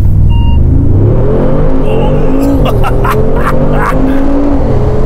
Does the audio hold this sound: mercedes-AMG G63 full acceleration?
yes